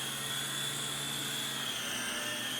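A Syma S39 Raptor RC helicopter flies indoors, its steady high-pitched motor whine and rotor buzz droning evenly and close throughout.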